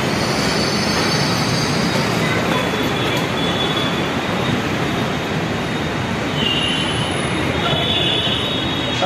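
Heard from inside a Mumbai Metro Line 2A train in motion: a loud, continuous rumble of running wheels with faint high squeals, steady with no pauses.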